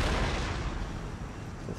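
Cannon fire booms in a battle in the strategy game Empire: Total War, a dense, loud rumbling roar of artillery that fills the moment without any voices.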